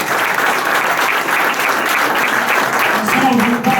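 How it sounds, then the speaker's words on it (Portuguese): Loud, continuous applause from a crowd rises at a gathering, many hands clapping close together at a steady level, with a faint voice or murmur showing through near the end. "eu queria pedir uma salva de palmas"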